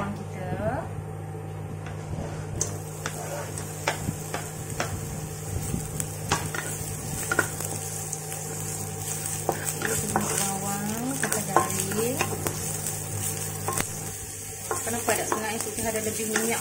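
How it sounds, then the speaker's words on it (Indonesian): Onions sauté in oil in a pan, sizzling steadily while a utensil stirs and scrapes with repeated clinks, and a person talks throughout. "sekarang kita tumis bawang kita"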